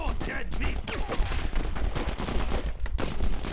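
Rapid gunfire from The Punisher PC game crackles in quick bursts of overlapping shots, loud and near, with game voices and effects mixed in throughout.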